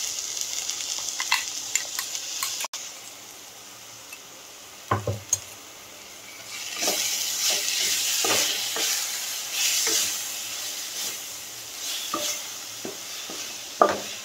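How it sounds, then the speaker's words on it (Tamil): Green chili, coriander and curry leaf paste being stirred in a pan, soft scraping and light sizzling with occasional clinks of a spoon against metal, quiet at first and then a fuller, steady fry. "இந்த மசாலாவை லைட்டா வதக்கினா போதும்."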